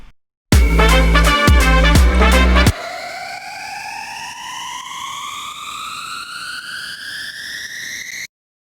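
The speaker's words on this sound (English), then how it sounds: "here's a riser that I made" A synth riser made in the Serum software synthesizer sweeps steadily upward in pitch for several seconds, loud and alone, right after a short burst of a full electronic beat.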